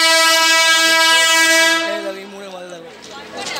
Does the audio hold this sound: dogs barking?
no